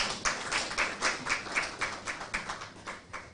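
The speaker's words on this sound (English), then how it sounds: "A round of applause." Audience applauding at a tech launch event for MTN Girl Code, a dense wash of many hands clapping at moderate volume with rhythmic swells, steady and uninterrupted.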